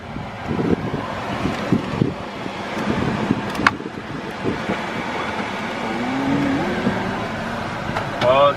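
A new manual car pulls away and drives on the road, its engine a low hum under wind buffeting and people talking inside, with a brief sharp knock in the middle.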